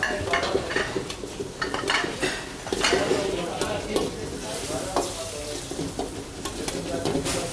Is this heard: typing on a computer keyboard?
no